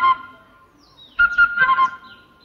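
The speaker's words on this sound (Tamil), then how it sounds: "சிட்டு குருவி" A sunbird near its nest in a terrace garden in Tiruvannamalai gives a brief thin chirp, then a quick cluster of bright, close whistled notes after a short pause.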